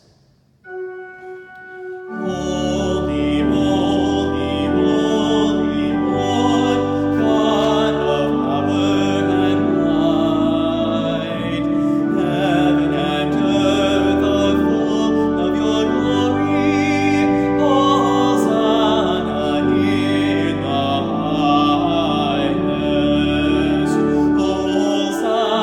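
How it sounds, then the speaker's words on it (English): New Eucharistic service music for the Sanctus (Holy, Holy, Holy), performed as sustained, steady harmonic music that enters after a brief quiet start and holds at a full, even level. "the Sanctus next, the Holy, Holy, Holy at the Eucharist, and it sounds like this."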